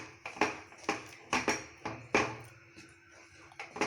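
A spoon stirring Bombay Karachi corn flour halwa in a pan, a steady series of about nine dull knocks and scrapes against the metal, close and fairly quiet.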